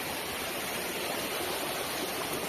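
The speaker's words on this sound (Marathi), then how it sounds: "हा धबधबा, हा छोटा धबधबा आहे" A small waterfall near the Kondane Caves in Karjat gives off a steady, even rush of water that fills the whole moment without a break. No voices are heard.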